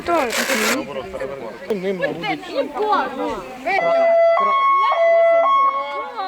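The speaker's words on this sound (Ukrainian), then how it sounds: "Цікаво посидіти за кермом службової машини, випробувати сирену, спеціальні сигнали." Police patrol car siren being tested, a loud two-tone wail alternating in steady steps over the last few seconds, preceded by people talking nearby.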